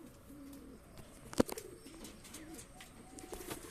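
Pigeons in a breeder's loft, including Shahjahanpuri naptas and a pair of fantails, give soft low cooing in short phrases, with a brief sharp knock or flutter partway through, fairly close and moderately quiet.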